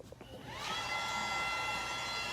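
An electrostatic sprayer fogger blows disinfectant mist with a steady whooshing hiss like a blow dryer, ramping up then holding a continuous whine, fairly quiet and with no talk over it.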